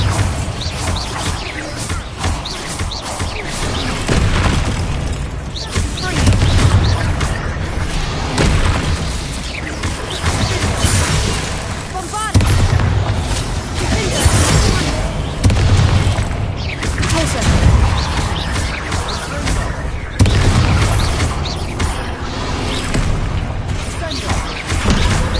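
Repeated Bombarda spell blasts from Hogwarts Legacy, deep booming explosions with crashing debris in a cave of spiders, a loud burst every few seconds over a dense, rumbling game soundscape.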